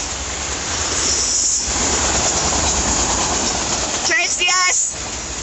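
A freight train rolls past a station with a steady rumbling clatter of wheels and cars at close range, with brief high squeals near the end and excited voices cheering over it.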